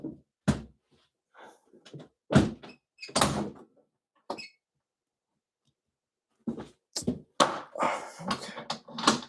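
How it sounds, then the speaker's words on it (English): A stiff door is forced open with a series of loud thumps, knocks and rattles, then a pause and another burst of banging and scraping as it finally gives. "Sorry, the door is a bit tough."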